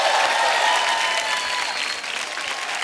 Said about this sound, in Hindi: एक बार जोरदार तालियां किशोरदा के नाम पे।